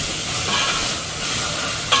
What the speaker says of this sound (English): Onions, garlic, jalapeno all cooking up.